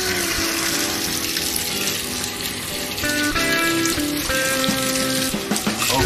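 Water gushes steadily from a bathtub tap, a continuous close hiss and splash with a faint tonal hum from the plumbing, no talking over it.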